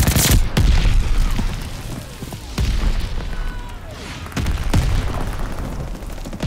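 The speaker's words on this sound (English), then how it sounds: "Allies calling a mortar barrage." Mortar barrage in Call of Duty Vanguard: several loud, booming blasts land close at irregular intervals, with crackling debris and gunfire between impacts and a continuous rumble underneath.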